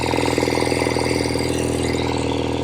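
A 1970 Royal Enfield Interceptor 750 Mk II motorcycle engine pulls under load with a steady, throaty, close drone and a faint rattle, running continuously with no talk over it.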